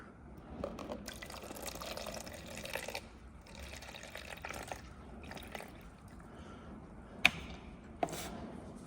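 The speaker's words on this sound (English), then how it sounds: "just got a bit of water here." Water trickling and pouring into a mixing container while measuring out an antioxidant-epoxy mix during surface rust prep on a Ford XC Falcon body, a quiet, intermittent liquid sound with a couple of sharp clicks near the end.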